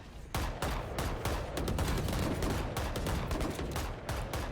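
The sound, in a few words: gunfire in Valorant video game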